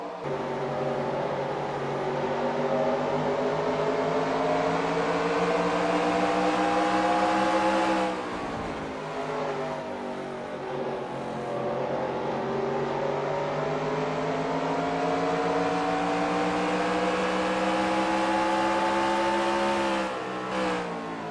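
Onboard engine of a stock race car in a racing video game at Richmond, a loud steady drone holding one pitch with no audible downshifts, dipping briefly near eight seconds before climbing again, continuous for about twenty seconds.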